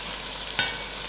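Spices frying with lamb in a stew pot, a steady close sizzle with a couple of brief stirring scrapes, no voices.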